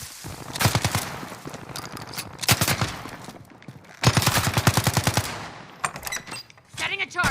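Automatic-weapon bursts from a 7.25 rifle along with RPG fire in Call of Duty Warzone, coming as several loud, rapid rattling volleys with short pauses between them and a sharper crack near the end.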